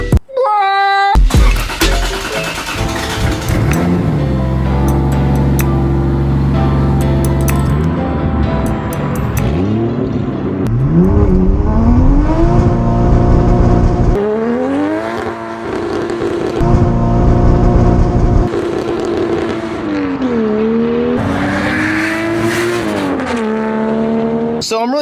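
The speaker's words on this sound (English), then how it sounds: "These exhausts are amazing, incredible, and beautiful, and they make me sound cool" Toyota Supra exhaust revving hard and continuously, engine pitch sweeping up and down through repeated throttle blips, loud and close, with brief pauses between bursts and occasional talk underneath.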